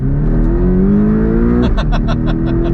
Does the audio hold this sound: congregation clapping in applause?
no